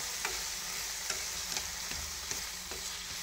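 Pickled mustard greens stir-fried in a pan for braised carp, a steady close sizzle with repeated scraping stirs of a utensil at irregular intervals.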